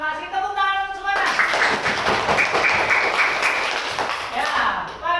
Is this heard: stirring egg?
no